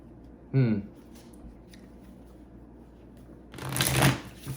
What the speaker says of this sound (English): let's go ahead and start putting out some cards